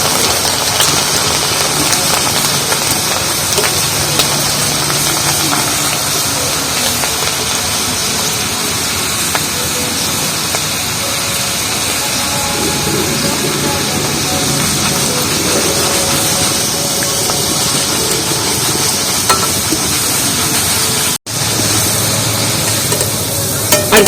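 Raw dal, including chana, sizzles in hot oil in a home kitchen pan, a steady, dense frying hiss that runs continuously and fairly loud for the whole stretch, with one momentary dropout near the end.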